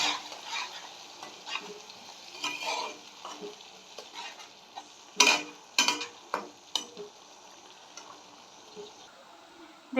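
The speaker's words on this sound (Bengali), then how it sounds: "এখন আমি এটা ভালো করে কষে নেব।" Onion and ginger-garlic paste stir-fry in a pan, with a soft steady sizzle broken by repeated scraping strokes and clinks of a spatula against metal, close but quiet.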